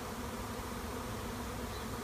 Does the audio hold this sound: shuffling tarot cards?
no